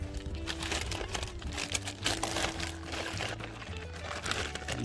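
A Ziploc plastic bag holding a little water crinkles and rustles as a container for Pinguicula cuttings is put inside, close up, with soft watery sloshes between the crackles and no talking.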